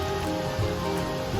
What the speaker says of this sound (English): It's not windy rain, it's just rain.